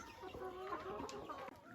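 Chickens on a farm in Thung Saliam, Thailand, cluck and murmur close by in a busy, overlapping chorus of short throaty calls.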